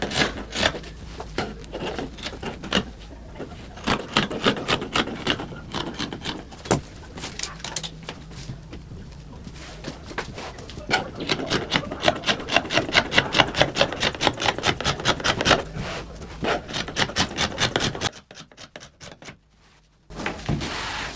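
Scissors cut through damask fabric for a bubu gown in rapid, repeated crisp snips, close up, continuing steadily before a brief quiet stretch near the end.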